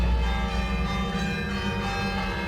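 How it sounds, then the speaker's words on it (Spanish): Bells of the Santa Clara convent church ringing continuously, their tones overlapping into a sustained, resonant wash. "Con las campanas del convento de Santa Clara se despierta una ciudad medieval"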